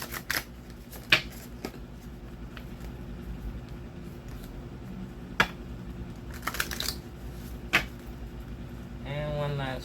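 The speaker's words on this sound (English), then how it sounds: "Let me just pull out all the cards" Cards from a Healing of Yourself oracle deck being shuffled, heard as several short crisp riffling bursts spread over a quiet room tone, close by, with a brief fluttering riffle near the end.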